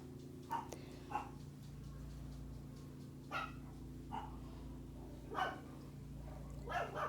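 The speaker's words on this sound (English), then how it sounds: "excuse the dogs barking, you guys" Dogs bark in a handful of short, separate bursts spread across several seconds, somewhat distant and moderately loud over a steady low background hum.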